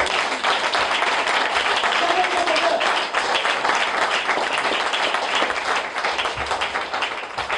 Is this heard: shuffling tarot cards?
no